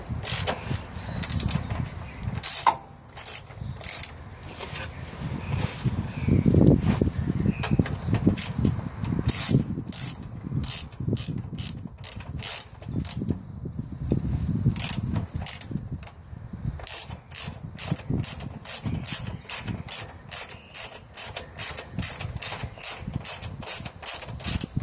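A hand ratchet snugs the stabilizer bar mount bolts on a Nissan Navara D22 Frontier, producing long runs of rapid, close metallic clicks in bursts, with mechanical handling noise between strokes.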